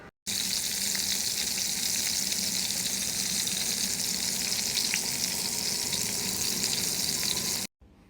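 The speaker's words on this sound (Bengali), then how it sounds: "এর পাশাপাশি এখন আমি বেগুন ভেজে নিব।" Eggplant frying in oil in a pan, a continuous close sizzle with fine crackling pops, holding steady and even throughout before cutting off.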